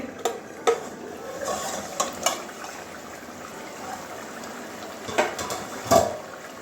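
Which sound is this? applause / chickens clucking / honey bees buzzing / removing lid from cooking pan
removing lid from cooking pan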